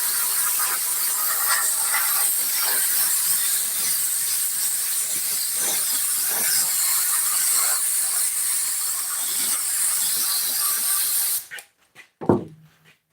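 Aerosol spray hissing steadily onto thick, stiff armrest foam during an upholstery rebuild, a continuous close hiss lasting about eleven seconds before cutting off, followed by a brief clunk.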